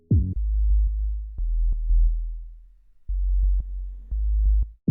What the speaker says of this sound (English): I added a sub bass.